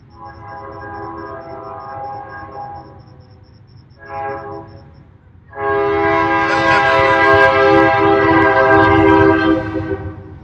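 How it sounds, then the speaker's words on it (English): A train rumbles past close by, sounding its horn in a sustained blast, a short toot, then a long, loud blare over the rolling rail noise. "while the train comes by"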